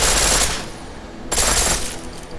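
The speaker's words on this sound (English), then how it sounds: "now we've got a fully automatic pistol" Fully automatic pistol in Deus Ex: Mankind Divided firing two rapid bursts, loud and close, with a brief pause between them.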